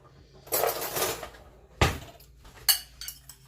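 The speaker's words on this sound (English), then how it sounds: "I'm just going to mix this up." Citrus salad mixed in a bowl, giving a few short bursts of utensil scraping and clinking against the dish, with quiet pauses between them.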